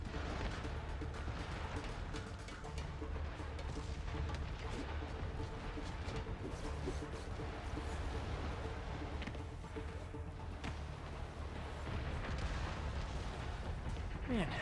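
Rockets firing and exploding in Marvel's Spider-Man on PS5, a dense, continuous rumble of blasts and booms holding steady and loud throughout, with speech faintly mixed in.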